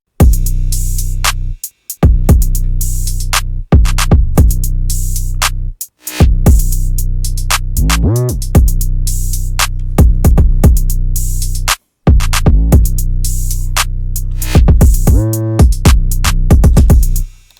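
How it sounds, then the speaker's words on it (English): A loud hip-hop beat with deep booming 808 bass under punchy drums, pausing briefly a few times, with pitch-sliding bass notes. "Drums and 808 together will sound like this."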